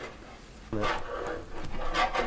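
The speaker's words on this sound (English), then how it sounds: "It's softened the paint, so I'm going to scrape off what I can and then repeat the process" A scraper is pushed across a classic Bedford truck door, lifting 45-year-old paint that has been softened by stripper. It gives a couple of close, rasping strokes with a short pause between them.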